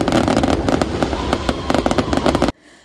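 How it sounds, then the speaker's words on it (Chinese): Fireworks bursting over Keelung on Qixi night, a loud, dense barrage of overlapping pops and crackles that runs continuously before cutting off abruptly into quiet. "加上七夕夜晚的浪漫烟火"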